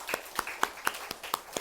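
A church congregation claps for parents on Parents' Sunday, a sparse, near set of about seven distinct claps at a steady rhythm, quiet and without talk.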